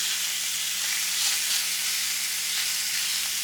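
Prawns on a seafood grill sizzle in a steady, close hiss after being turned, constant and fairly loud with no talking.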